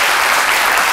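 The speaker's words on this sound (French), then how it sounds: "Jessica, on applaudit nos acteurs" A studio audience applauds actors on a French TV talk show: a dense, loud, even burst of clapping filling the whole moment without a break.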